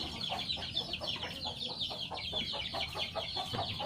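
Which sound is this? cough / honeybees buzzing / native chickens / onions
native chickens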